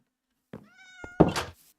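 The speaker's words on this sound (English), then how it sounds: "There's a kitty!" Minecraft cat in survival mode: a single clear tonal meow, followed by a soft thunk and then a louder, rougher second meow, close and alone against silence.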